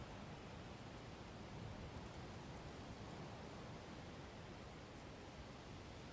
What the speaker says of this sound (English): Also, the rain sound is kind of annoying.